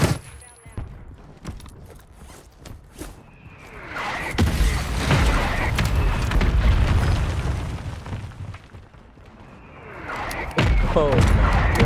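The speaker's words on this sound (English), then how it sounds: "I pulled out the mortar strike" A mortar strike from the Call of Duty Warzone video game lands with a loud, rumbling explosion, followed by sustained heavy blast noise and debris, with a second large boom near the end amid gunfire.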